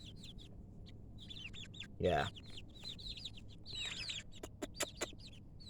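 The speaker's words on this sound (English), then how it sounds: "And we got some chickens right here." Chickens cluck in a backyard flock kept alongside turkeys, with soft repeated clucks and a louder squawk, while other birds chirp faintly in the background and a person briefly says a word.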